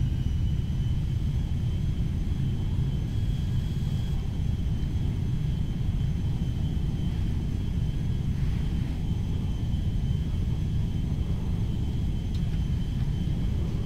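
An Airbus A310-300 jetliner mod in GTA V roaring steadily at high power on takeoff, a dense constant engine rumble with a faint whine on top and no talking.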